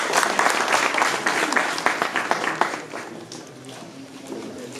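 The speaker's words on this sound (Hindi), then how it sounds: "जोरदार तालियों के साथ स्वागत करें।" A crowd at a local political gathering claps in welcome for new party members, brisk applause that fades out partway through, with voices and background murmur underneath.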